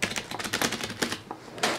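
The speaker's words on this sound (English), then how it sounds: "A bog standard keyboard, USB," A standard USB computer keyboard is typed on in a quick, uneven run of sharp plastic key clicks, close and clear, with no talking.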